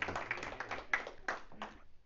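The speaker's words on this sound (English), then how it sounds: "Round of applause." Small group applause during an employee self-defence training session, a short burst of a few distinct hand claps, uneven and fairly quiet, fading after about two seconds.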